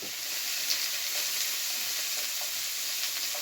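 Continuous loud sizzling and bubbling of salmon meatballs stewing with vegetables in a pan, with faint stirring scrapes over the steady hiss.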